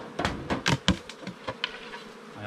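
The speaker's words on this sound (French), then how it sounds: "les dernières abeilles, hein, je les secouerai et il n'y aura pas de soucis" Honey bees buzz around emptied hive super frames after honey extraction, the hum rising in short swells as individual bees pass close, fairly quiet overall.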